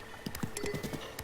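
Wild horse in the Breath of the Wild video game: a quick run of clip-clopping hoofbeats with a short neigh, brief and fairly faint, without talk.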